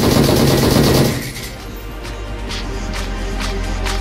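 Gunfire in a first-person shooter video game: a loud burst of shots for about a second, followed by quieter rapid pops under a steady background.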